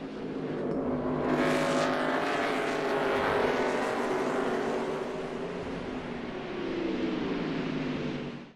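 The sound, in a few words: NASCAR race cars racing at Sonoma Raceway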